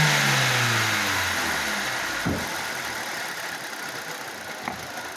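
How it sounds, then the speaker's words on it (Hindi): The engine of a Hyundai Xcent pickup, which burns oil and gives off black smoke, is revved and then falls back toward idle with a falling whine. It then runs on with a rough, steady drone and two small knocks. "रेस देना सर।"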